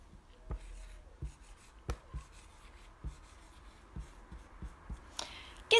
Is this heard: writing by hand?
yes